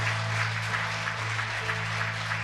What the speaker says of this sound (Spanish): Vamos, aplaudan.